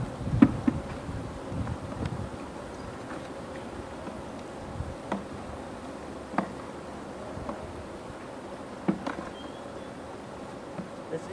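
Honeybees buzzing around an open hive frame from a swarm, a dense steady drone close by with individual bees flying past, plus faint rustling and occasional handling taps.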